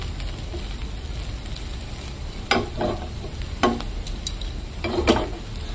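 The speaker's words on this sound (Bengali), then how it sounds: "আমি আবার কিছুক্ষণ নাড়াচাড়া করে বেশ ভাজা ভাজা করে নেবো চাউমিনটা" Steady sizzle of noodles frying in a hot wok, with a few sharp scraping clatters of stirring standing out above the hiss.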